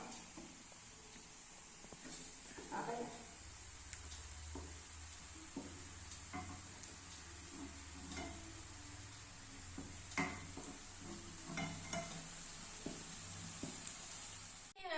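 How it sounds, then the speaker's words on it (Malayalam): Pork with roasted coconut frying slowly in a pan over low flame, a soft continuous sizzle with occasional scrapes and clinks of stirring, fairly quiet and close, without speech. "അതിനുശേഷം ലോ ഫ്ലെയിമിൽ 5 മിനിറ്റ് ഇത് ഫ്രൈ ആവാൻ വെയിറ്റ് ചെയ്യാം"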